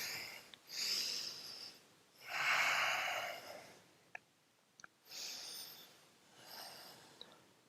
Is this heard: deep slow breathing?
yes